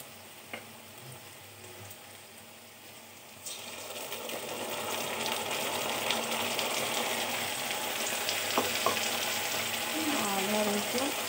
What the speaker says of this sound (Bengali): এবার আমি ময়দাটা ঢেলে দেবো।